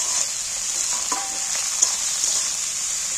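Onions and fat frying hard in a pan as they are stirred, a steady bright sizzle throughout with a few soft scrapes of the spoon, close and fairly loud, no voices.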